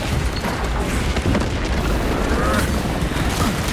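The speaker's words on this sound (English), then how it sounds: "Planting melter bomb." Melter bomb blast in Space Marine 2, heard as a loud sustained boom and rumbling roar with crackling debris, close and filling the scene with dense combat noise.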